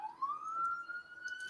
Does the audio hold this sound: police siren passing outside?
yes